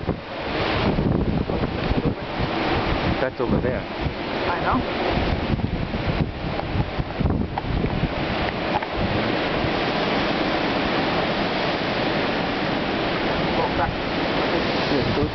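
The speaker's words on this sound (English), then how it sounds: "Really windy." Hurricane Sandy's strong wind roars and buffets the microphone continuously at close range, loud and gusty, while people exchange a few words beneath it.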